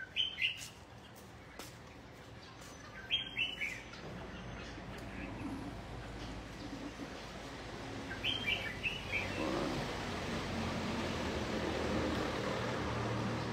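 A songbird chirps in short bright bursts of two or three notes, repeated a few times over a faint steady outdoor hiss in a yard.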